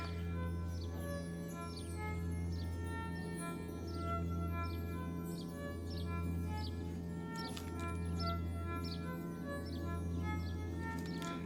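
Bird-like chirps repeat high above steady sustained music, evenly spaced across the whole stretch and blended into the recording rather than standing apart.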